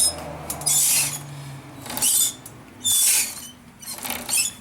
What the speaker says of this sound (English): that is the sound of that bearing saying